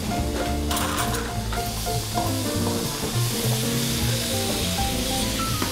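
Chorizo and potato breakfast hash fries in a pan with a strong, continuous close sizzle, punctuated by spatula scrapes as the chorizo is broken apart, over steady tonal background sounds.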